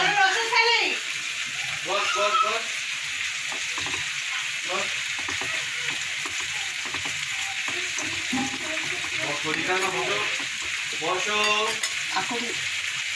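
Vegetables stir and sizzle in a hot pan as jaggery goes in with the tamarind, a steady loud fry hiss with scraping spoon strokes, while a voice talks over it at times.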